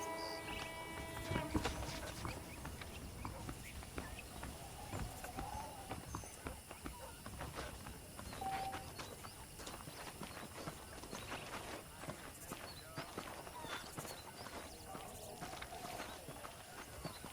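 Horse hooves clip-clop steadily at a walking pace in the Red Dead Redemption video game, with a continuous game soundscape around them and occasional voices over the top.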